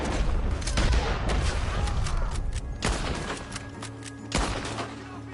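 Gunfire rattles through a Red Dead Redemption 2 shootout, a loud, dense fusillade of overlapping shots with sharper cracks standing out near the end.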